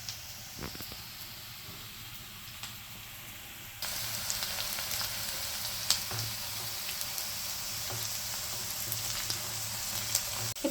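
Mushrooms frying in a bowl-shaped pan for mushroom biryani, a steady hissing sizzle that jumps louder partway through and then holds, with a few small pops and crackles.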